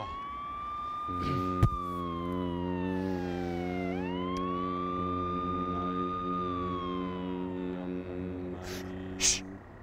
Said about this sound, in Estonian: Nüüd on kiirabiauto.